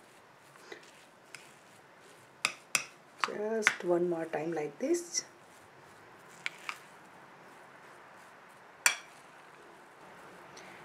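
A spoon stirs kansar (lapsi), a sweet cracked-wheat mixture, in a bowl just out of the microwave, giving a few sparse taps and scrapes while someone talks over the mixing.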